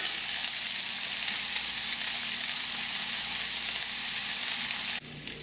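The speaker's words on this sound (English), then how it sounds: "There's nothing like the sound of bacon sizzling and the smell of bacon frying." Bacon frying in a pan alongside potatoes gives a loud, steady crackling sizzle that runs unbroken for about five seconds and then drops away suddenly.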